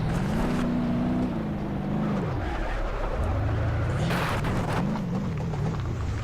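A car engine in the BeamNG.drive driving game revs and whines through a slide, pitch rising and dipping as the vehicle drifts, loud and continuous with tyre noise underneath.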